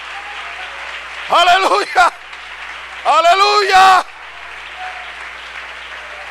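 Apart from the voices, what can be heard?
congregation applauding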